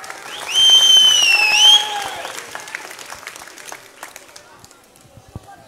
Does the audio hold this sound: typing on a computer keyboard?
no